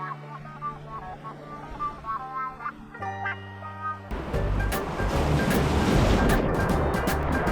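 Water flowing out of the Kola river lagoon onto the sand at Cola Beach in South Goa blends with breaking surf, a loud, constant wash that swells after a stretch of background music.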